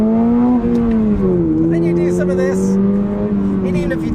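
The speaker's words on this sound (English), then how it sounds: "this beautiful high revving engine" A 2024 Toyota GR86 Performance Pack engine hums steadily with rising and falling pitch, heard close up beneath someone talking throughout.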